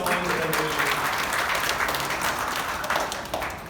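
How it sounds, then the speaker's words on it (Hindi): Lively audience at a desi comedy show breaks into loud, sustained applause, many hands clapping densely and close for several seconds before starting to taper, with a few voices underneath. "जोरदार ताली बजाओ"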